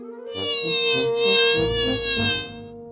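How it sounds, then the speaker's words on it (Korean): A fly buzzing around indoors, giving a continuous close droning whine that swells and fades as it moves, with no talking. "어디서 파리가 날아왔지?"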